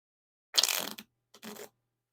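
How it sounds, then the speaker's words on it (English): Bicycle Arch Angles playing cards are riffle shuffled in two quick bursts: a longer flurry of fluttering card edges, a brief pause, then a shorter second riffle, close and clear in a quiet room. "Now for the riffle shuffle or bridge shuffle."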